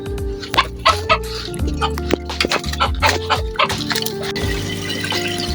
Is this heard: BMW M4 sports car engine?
no